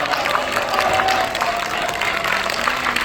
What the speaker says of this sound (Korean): 정가훈 목사님께 다시 한번 큰 박수를 보내주시기 바랍니다